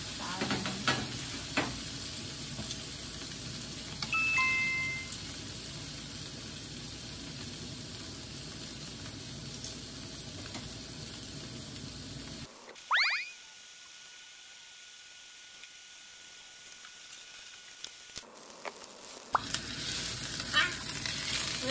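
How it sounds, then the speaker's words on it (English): Beef grilling in a pan gives a steady sizzle with stirring noises, broken by a quiet gap midway before the frying sound returns, with no talking. "let's grill the beef"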